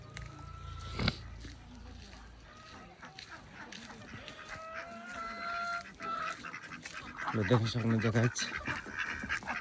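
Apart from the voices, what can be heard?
ducks quacking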